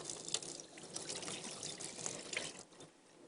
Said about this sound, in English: And then I'm also just going to add some water.